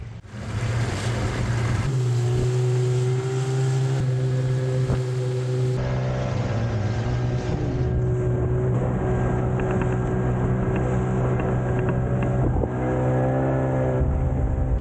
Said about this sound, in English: Just done a little service on my outboard motor, so new spark plugs, impeller and gearbox oil